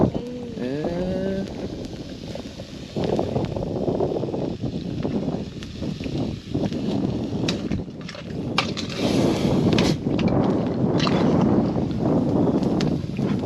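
Wind blows across an open rice field, a steady rushing buffet with gusty bursts hitting the microphone. Someone speaks briefly at the start.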